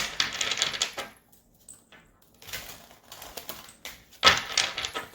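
A deck of tarot cards is shuffled in three separate bursts of brisk, papery riffling, close and fairly loud, with quiet pauses between them and no talking.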